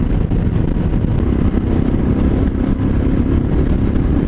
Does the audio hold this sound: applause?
no